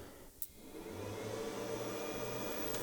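A fodder beet cutter run from a 12V inverter starts up with a click, then a steady whirring motor drone with a low hum, holding at an even level.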